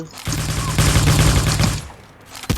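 Dense automatic gunfire in the video game Cyber Hunter, a loud continuous burst of rapid shots lasting about two seconds, then a brief lull and one more sharp report near the end.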